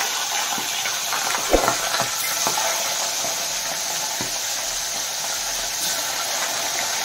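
Pomfret fish frying in hot oil in a home kitchen pan, a steady bright sizzle and hiss throughout with a few soft clinks and stirring taps near the start.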